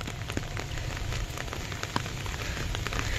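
Light, steady drizzle falls outdoors near village ponds, a soft, even patter of raindrops on surfaces with a few slightly louder drops standing out, no voices.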